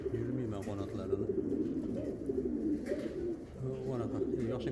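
Uzbek pigeons coo in low, rolling, repeated calls that run steadily through the whole stretch at close range, with faint background noise but no clear talk.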